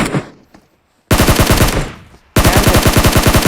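Automatic gunfire in the video game PUBG on the Erangel map, two loud, rapid bursts of evenly spaced shots at close range, separated by a brief quiet gap after a few earlier scattered shots.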